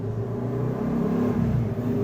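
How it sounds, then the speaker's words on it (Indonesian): A motorcycle engine runs with a steady mid-low drone and slight revving fluctuations, continuous and fairly close, with no talking. "Suara motor."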